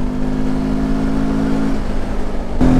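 A derestricted Benelli TRK 702 motorcycle engine strains to climb through the revs, a sustained mid-pitched drone that holds close and loud before a shift in tone near the end.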